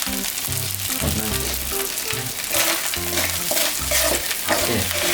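Field rat stir-fried with plenty of spices in a pan sizzles and crackles steadily and close, the frying hiss continuing throughout beneath a melodic music track.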